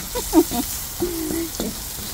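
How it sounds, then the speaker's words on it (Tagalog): Garlic sautés in a pan for a pork chop hotpot dish, giving a steady close sizzle with a few brief voice sounds over it. "dyan na rin natin isusote yung ating garlic"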